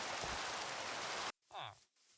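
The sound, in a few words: rain falling in old Minecraft, video game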